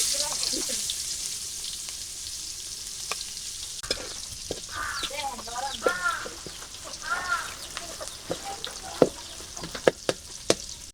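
Chopped onion frying in leftover hilsa fish frying oil, a steady broadband sizzle with scattered stirring clicks and scrapes, while someone speaks over it in a few brief phrases.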